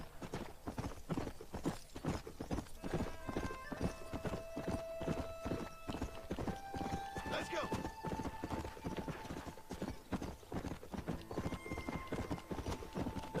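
A horse in Red Dead Redemption gallops with a steady, rapid clip-clop of hooves. Someone talks over the hoofbeats, and faint music plays behind.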